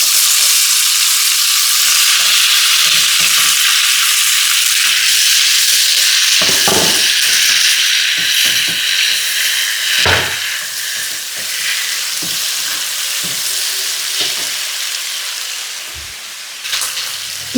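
Dried red chillies, chopped onion, tomato and green chillies sizzle loudly in a hot pan, a dense, continuous crackle broken by occasional scraping stirs.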